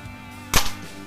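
A single sharp, snapping shot from a Ruger PCP air rifle, close by and loud, standing out against a steady low background hum.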